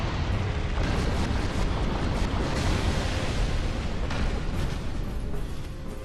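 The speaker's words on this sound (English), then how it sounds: "And then immediately go for her explosion move." A boss's explosion attack in Dark Souls (Prepare to Die Edition) fills the span with a dense, continuous roaring rumble and bursts, loud and sustained, with no talk over it.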